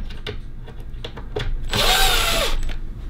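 A power drill whirs in a short burst of about a second while backing screws out of a control panel, preceded by light clicks and handling taps.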